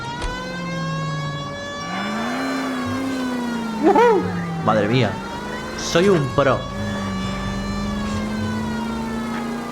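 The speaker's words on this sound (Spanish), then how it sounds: "Sirena." A police car's wailing siren rises and falls steadily in the video game L.A. Noire, sounding over engine noise while a person talks and exclaims over it.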